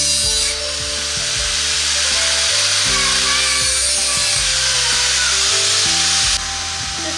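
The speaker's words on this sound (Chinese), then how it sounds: "所以决定把这个腿给它锯断" A power saw cuts through the metal leg of a stand for a home distilling pot, whining loudly and steadily, with the pitch dropping and rising as the blade bites through the leg.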